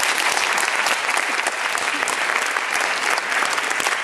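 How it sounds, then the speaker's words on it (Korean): Audience clapping loudly and continuously at a university piano club's regular concert, a dense, even roar of applause from a large crowd with no voices standing out. "그동안 수고해주신 감독님과 연주자분들, 그리고 지금 여기에는 보이지 않지만 무대 뒤에서 저희를 도와주신 스태프분들에게 격려의 박수 부탁드립니다."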